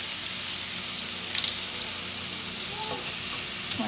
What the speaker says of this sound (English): There's just some garlic. Sizzling it up.